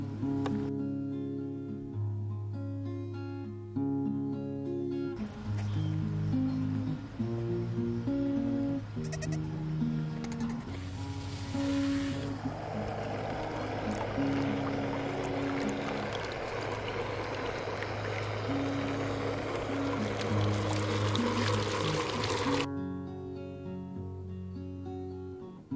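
Water pours in a long steady rush to refill a goat pen's water, goats bleating repeatedly nearby before and during the pour.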